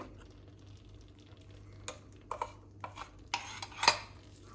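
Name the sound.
stirring cream into curry in pan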